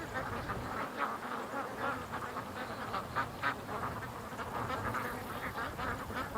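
Hospital ducks on a lake, scattered quacks and calls repeating in an irregular run over faint outdoor background, with no talking.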